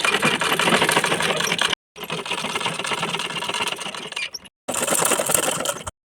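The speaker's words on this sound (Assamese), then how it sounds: "তাৰপিছত এতিয়া এইফালে ছাইডৰ চিলাইটো এনেকৈ মাৰি যাম।" A sewing machine stitches the side seam of an Assamese mekhela, its rapid, steady mechanical chatter running loud and close in three bursts separated by two short pauses.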